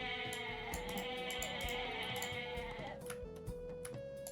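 Goats bleating in the Age of Mythology strategy game, several short wavering bleats over background game music, fairly quiet and overlapping in quick succession.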